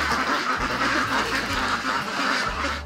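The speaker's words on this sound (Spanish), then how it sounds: "en Finca Los Olivos hay varios de estos patos" Ducks quack repeatedly on the Finca Los Olivos farm, a close, loud run of overlapping calls that continues throughout.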